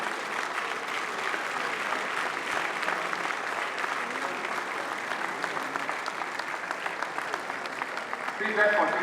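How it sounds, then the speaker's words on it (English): A graduation ceremony audience gives sustained applause, a broad, even wash of many hands clapping at moderate distance that carries on without pause for several seconds, with a voice faintly audible beneath it. "Please let's continue to give her a round of applause."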